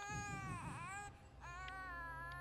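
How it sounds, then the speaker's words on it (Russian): An infant cries in the video game Smoke and Sacrifice, a continuous wailing, wavering cry at low level, heard alone with steady background tone. "Ступай, Сати, слышишь, как кричит твой малыш?"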